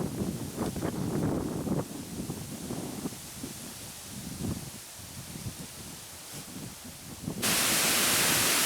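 Wind buffets the microphone in gusty, rumbling bursts, ending in a loud hiss of rushing air.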